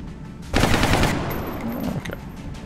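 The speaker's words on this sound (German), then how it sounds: "Oh, kannst du von hier sogar schießen." A loud burst of automatic gunfire rattles out in the video game XCOM Long War, a rapid string of shots lasting about a second before fading into lighter follow-up reports.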